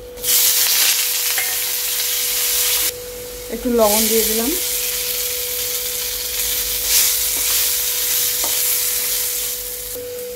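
Cut potato pieces fry in a pan with hing and sambar spice, a loud steady sizzle with stirring scrapes; someone speaks briefly partway through.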